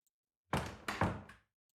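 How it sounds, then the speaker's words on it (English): A car door thuds shut, chosen from a set of random car door effects: a heavy, close thump followed by a second solid impact and a short rattle, alone against silence. "It's a car door."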